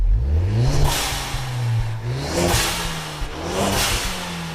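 A Ford Focus ST engine revs up hard several times through its stock exhaust, the raspy exhaust note rising and falling in loud surges.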